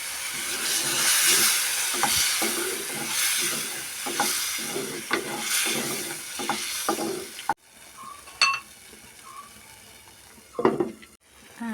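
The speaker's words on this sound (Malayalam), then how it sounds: "തിളക്കുന്നുണ്ട്" Ginger tamarind curry with tamarind water simmering in a pan, a continuous sizzle and hiss punctuated by repeated stirring scrapes, then quieter bubbling with a few clatters of a spoon near the end.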